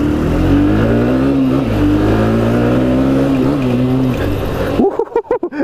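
A Bajaj Discover 125ST motorcycle engine roars loudly and close on a test ride, its pitch climbing and holding steady under hard acceleration before dropping away into a few short bursts as the throttle is released.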